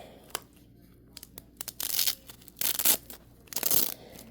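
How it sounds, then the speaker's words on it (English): A Frosty the Snowman toy being ripped open, scattered close crinkles and snaps building to three bursts of loud tearing and crushing of packaging or plastic, with no talking. "So yeah, I try to rip this open again."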